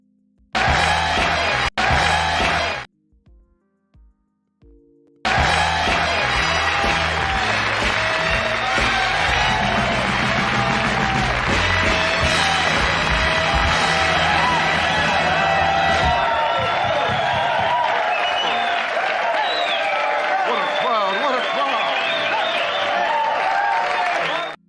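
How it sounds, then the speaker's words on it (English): A large crowd cheers, whoops and applauds loudly and continuously for a long stretch after a brief quieter moment of talk, with shouts rising over the clapping. "What a crowd, what a crowd."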